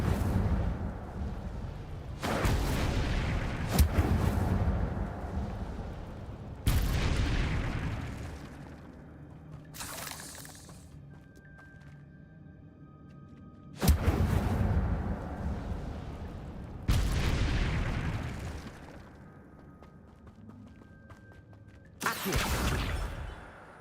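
The Incendio fire spell in the video game Hogwarts Legacy goes off in about seven loud, roaring blasts, each separated by quieter stretches of low ambience.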